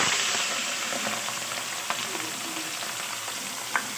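Onion and chili frying in hot oil in a wok, giving a dense, steady sizzling hiss close by, with a few sharp crackles and pops, no voices.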